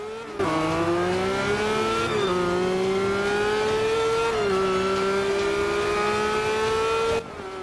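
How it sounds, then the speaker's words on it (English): A high-pitched hypercar engine in the video game Forza Motorsport 5 revs loudly and continuously, its pitch rising and dipping through gear shifts, with no talking. "I'll shut up and let you listen to this car."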